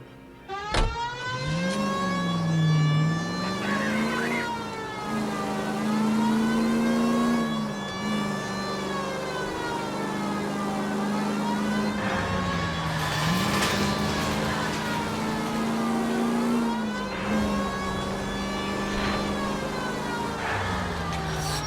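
Car engine in the video game L.A. Noire, driven through city streets, revving and shifting pitch steadily throughout with a siren-like wail layered in, loud and continuous.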